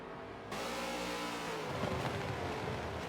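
V8 race cars in a racing video game roar in close formation on the COTA West layout, engines revving hard with a brief tyre squeal as one pulls out of the slipstream.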